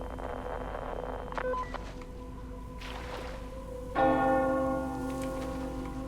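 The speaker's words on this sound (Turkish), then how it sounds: "Oğlum niye çan çalıyor?" A church bell strikes in the video game Metro Exodus, its ringing tone lingering and fading, over a steady background of ambient noise and a low hum.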